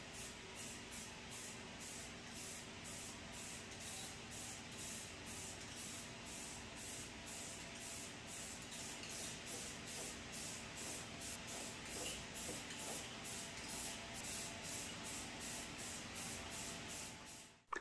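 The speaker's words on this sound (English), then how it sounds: "I'm gonna lay it down with a silver base coat." Spray can laying down a silver base coat on a motorized Boba Fett helmet, a soft hissing spray pulsing in rapid even bursts throughout, close and steady, with no voices.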